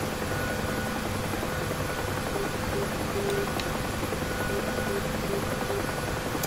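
A UH-1H Huey helicopter in the DCS flight simulator taxis with a steady, dense rotor and turbine drone, loud and unbroken, no talk over it.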